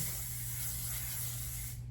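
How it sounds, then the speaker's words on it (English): A continuous close hiss of an aerosol hair spray being sprayed all over styled hair, steady for nearly two seconds before trailing off at the end. "Now, I'm gonna spray it all over."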